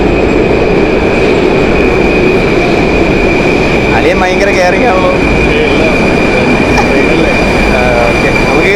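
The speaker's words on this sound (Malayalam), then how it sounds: "ഇതാണ് നമ്മുടെ ട്രെയിൻ വരുന്നത് ഗൈസ്." A metro train pulls into the end-of-line platform of a station in Russia, a loud continuous rumble of rolling carriages with squealing wheels and rail clatter, while a person speaks briefly over it.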